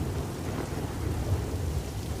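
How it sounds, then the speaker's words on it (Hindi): Heavy rain pours steadily with deep rolling thunder rumbling underneath, a dense cartoon-style storm effect heard alone without voices. "बारिश भी इतनी तेज हो रही है"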